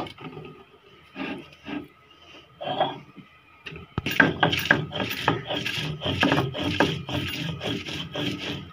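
Ingredients for bhorta are ground into a paste on a grinding stone. After a few quiet scrapes and a short pause, a knock starts a steady run of rhythmic, gritty rubbing strokes up close.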